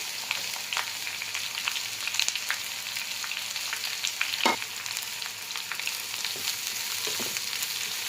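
Onions and green chillies sautéing in a pan for empty chalna, with a close, continuous sizzle broken by scattered spatula clicks and scrapes; no one speaks.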